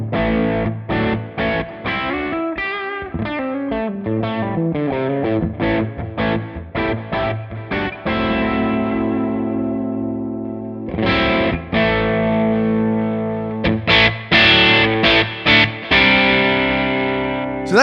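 Distorted electric guitar through a ToneX cab with the treble EQ adjusted, playing loud riffs of choppy staccato chugs and sustained chords for the whole stretch, with no voices over it.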